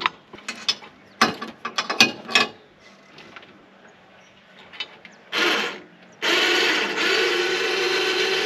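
Ratchet straps that secure a motorcycle for transport are released, giving a run of quick clicking ratchet bursts, then a longer steady rasping as the strap slides free, close and fairly loud.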